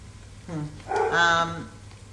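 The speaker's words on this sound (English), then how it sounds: "Sorry, my dog's barking." A dog gives a short bark followed by a longer, whining yelp, close by and fairly loud over a faint low hum.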